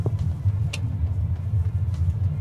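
Leapmotor C10 car cornering, heard from inside the cabin as a steady, loud low road and tyre rumble with no talking.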